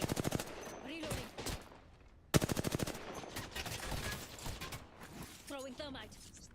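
Enemy gunfire in the video game Apex Legends: rapid automatic bursts crack in two loud runs, with further scattered shots, mechanical clicks and voices over the fight.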